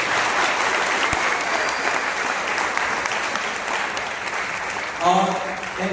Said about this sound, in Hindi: तो एक बार इन सभी के लिए जोरदार तालियां।